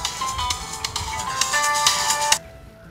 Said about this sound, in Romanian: Ne sună, bă! Ne sună el.